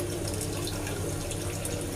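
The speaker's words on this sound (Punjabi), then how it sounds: "ਉਹਦੀ ਦੋ ਤਿੰਨ ਵਾਰੀ ਪਾਣੀ ਪਾ ਕੇ ਧੋ ਕੇ ਚੰਗੀ ਤਰ੍ਹਾਂ ਪਾ ਦਾਂਗੇ" Tap water runs steadily and close by as tamarind is rinsed in a home kitchen while making kadhi. It is a continuous, even splashing with no voices over it.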